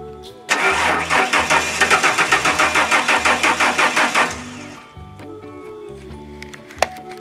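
A truck engine that is not getting fuel cranks for about four seconds with a rapid rhythmic chugging from the starter, fails to catch, and then stops, leaving quiet background with faint clicks.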